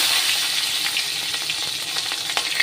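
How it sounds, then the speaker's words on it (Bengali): Dried red chilli and cumin seeds crackle and sizzle in hot oil for a vegetarian paneer dish, a dense, close, continuous frying hiss with small popping bursts and occasional stirring scrapes, with no voices. "ওটাতেই আবার তেল দিয়ে দিলাম এবার একটু শুকনো লঙ্কা দিলাম জিরে ফোড়ন দিলাম"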